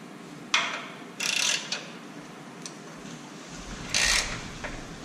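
A ratchet works the fog light bolts on a Jeep JL, making a few short bursts of rapid clicking. The bursts are close, with quiet gaps between them and a low background rumble.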